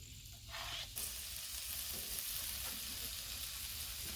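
Pastrami hits melted butter in a hot pan and sets off a loud, steady, close sizzle that carries on without a break, with a brief clatter at the start as the meat goes in.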